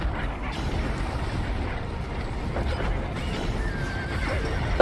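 In a horse racing video game, a horse whinnies over a dense, steady rumble of pounding hooves and background game noise.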